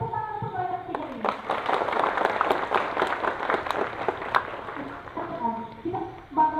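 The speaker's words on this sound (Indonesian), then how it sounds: "Tepuk tangan untuk mereka 3 ini." Students clapping at a school assembly during a morning ceremony, a moderate burst of applause rising and fading under someone speaking into a microphone.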